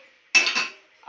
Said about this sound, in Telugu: నెక్స్ట్ దీనికోసం ఒక మూకుడు పెట్టుకొని